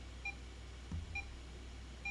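A hospital monitor in the video game 9 R.I.P gives soft, regular electronic beeps roughly once a second. Faint low thumps and a steady background hum run underneath.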